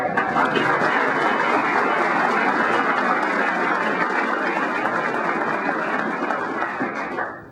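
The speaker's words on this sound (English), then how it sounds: "it would be nice to have a little applause of appreciation for him" Steady, dense applause from an audience fills the room for several seconds, then tapers off at the very end.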